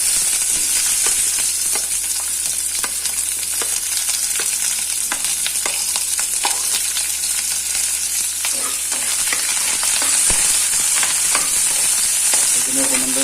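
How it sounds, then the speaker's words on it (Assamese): Onions fry in a very hot kadai with a loud, continuous crackling sizzle, stirring scrapes and clicks running through it close up, and no voices. "পিঁয়াজখিনি মই 1 মিনিট ফ্ৰাই কৰিলোঁ"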